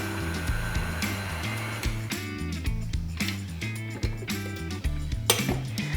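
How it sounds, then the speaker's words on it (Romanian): A mixer works telemea cheese into a flour and butter dough in a bowl, giving a steady motor whine with rhythmic clinking and scraping of beaters against the bowl, loud and close. "Mixăm puțin cât să se omogenizeze."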